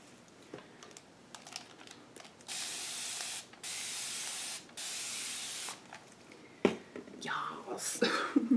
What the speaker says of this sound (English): let's spray with water